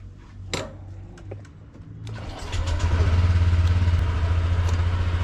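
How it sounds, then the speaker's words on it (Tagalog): Honda Click 125i scooter with 50,000 km on the odometer starting up, a few clicks and a brief whir, then the engine catching and idling into a steady, close, pulsing drone. "sorry sa nagpapatakbo na ako ng motor"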